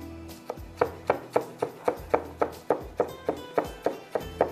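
Herbs or vegetables chopped on a cutting board for sehri qeema, a steady run of about eighteen evenly spaced knife thunks, close and crisp, no talking.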